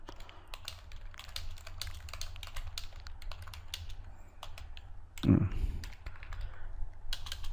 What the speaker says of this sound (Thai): เดี๋ยวนะผมพิมพ์ตัวนี้เลยก็ได้